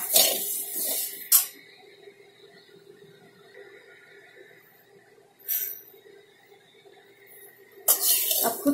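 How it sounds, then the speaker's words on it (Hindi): Dry fruits roast in a pan for a homemade baby cereal, giving crisp, rustling crackle bursts at the start, midway and the end over a low steady hum. "आप खुद सुन सकते हैं कितनी क्रिस्पी आवाज आ रही है,"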